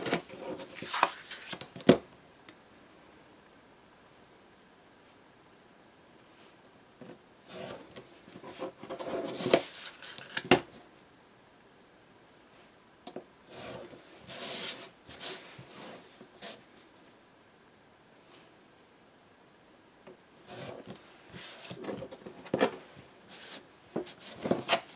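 Chipboard corners are cut at an angle for an explosion box album, several bursts of rough scraping and crunching cuts separated by quiet gaps, close up, with no talking.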